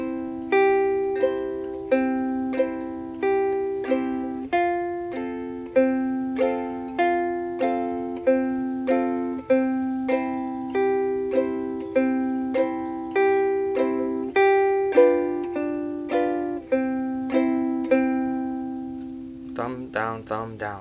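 Ukulele played Carter style, a thumb-picked melody running through a simple chord progression in an even plucked rhythm, finishing with a quick strummed chord, with no voices.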